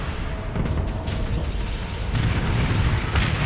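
Heavy explosions and booms from torpedo hits in the space combat game Starsector, with several bursts rolling into a dense, sustained rumble that stays loud for the whole stretch.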